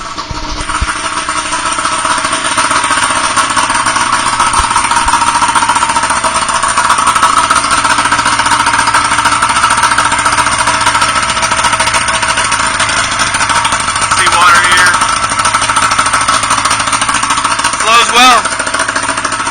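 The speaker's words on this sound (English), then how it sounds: "It's a good motor." A 1992 Klamath boat's outboard motor runs steadily at a loud, even idle, with faint speech near the end.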